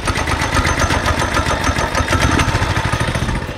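Small engine of a child's toy dozer running steadily after a pull start, a loud, continuous buzzing drone with a rapid pulsing rhythm that stays close and unbroken throughout.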